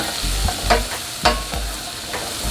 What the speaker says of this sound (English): just throw the butter so the butter can start melting as well by the garlic is cooking